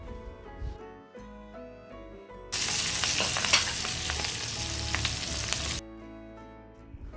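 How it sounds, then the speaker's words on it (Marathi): Garlic and curry leaves fry in butter and cooking oil in a pan, giving a loud, steady sizzle that bursts up partway through and then cuts off, with quieter background music before and after. "आता पॅनमध्ये 1 टेबलस्पून बटर घालायचं आणि 1 टेबलस्पून कुकिंग ऑइल घालायचं. यामध्ये बारीक चिरलेला लसूण घालायचा. लसूण थोडा फ्राय होऊ द्यायचा."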